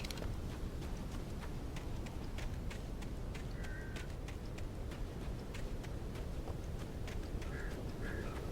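Birds chirp and call in short bursts over a steady outdoor ambience in the Alan Wake video game, with scattered sharp calls near and far and no talking.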